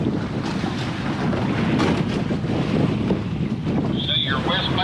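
Dinghy sitting on the water in the Port of Canaveral, with continuous loud wind buffeting and water slapping close by, and a brief high whine near the end.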